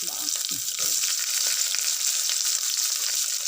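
Large-cut onions frying in coconut oil over a gas stove for a prawn roast, a steady, close sizzle and crackle throughout with no talking.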